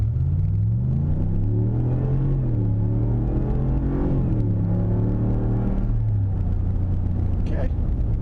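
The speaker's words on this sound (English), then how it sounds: "I'm just going to do a 0 to 60 and see how it performs stock" A stock Ram 1500 pickup truck accelerates from 0 to 60, its engine note rising through several gear shifts in a loud, steady rumble heard from inside the cab.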